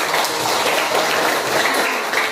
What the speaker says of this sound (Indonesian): Tepuk tangan untuk kelas kelompok.